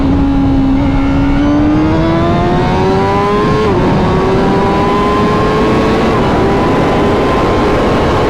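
A Honda CBR1000RR-R SP Fireblade motorcycle revs hard in second gear, its engine note climbing steadily in pitch, with a brief dip near the middle before it pulls on again, loud and close throughout.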